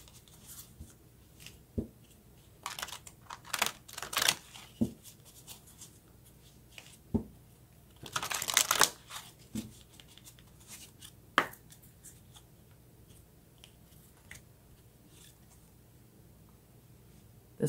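Oracle cards being shuffled and drawn make sparse papery flicks and taps, with a brief burst of riffling in the middle, close and quiet against near silence.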